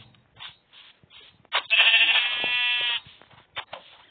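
Sheep bleating in the Minecraft video game: a short game bleat stands out clearly in the middle of the clip, with faint game sounds before and after.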